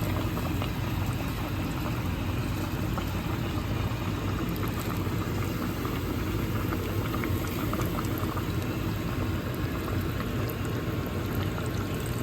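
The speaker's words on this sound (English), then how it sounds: "let you hear the sound of the chicken frying" Chicken frying in a pan packed with oil for a Southern fried chicken dinner, giving a loud, dense, unbroken bubbling sizzle close up that runs steadily from start to finish, with no voices.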